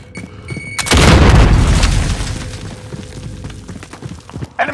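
A frag grenade going off in Call of Duty Warzone, one loud, close, deep boom that rolls and decays over several seconds amid faint battlefield noise.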